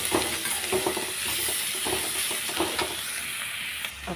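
A spoon stirring food frying in a karahi, with a steady close sizzle under repeated scraping strokes against the metal pan.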